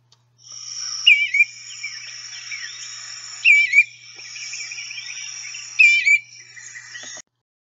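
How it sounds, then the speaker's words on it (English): A thrush-family bird sings a mournful cheer call, repeated clear whistled notes with three brighter, louder phrases at steady intervals over a continuous high chattering song, fairly close and with no talking. "They also produce a very mournful cheer call."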